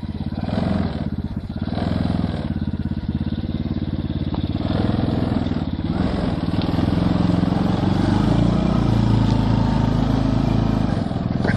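A small nitro-engined miniature car revs hard and steadily under held throttle, a loud continuous buzzing drone that wavers slightly in pitch and stays close throughout, with no voices over it.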